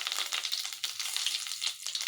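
Curry leaves sizzling in hot oil with mustard seeds and cumin during tempering for a South Indian saaru, a dense steady crackle and hiss with small pops throughout, close and fairly loud, no voices.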